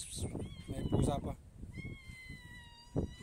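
A cat by the seashore meowing near the recorder, a few short cries mixed in with people talking nearby, with one clearer meow near the end.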